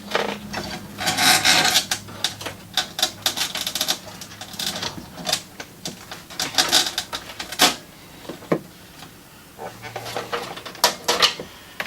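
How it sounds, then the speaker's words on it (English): Power supply cables being untied and unwrapped while a gaming PC is assembled: busy rustling, rubbing and scraping with frequent small clicks and ticks, close and fairly steady throughout. "We will undo these cables, unwrap them."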